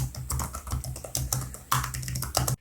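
Quick, close typing on a Corsair K83 Bluetooth keyboard with a steady clatter of keystrokes, no voices.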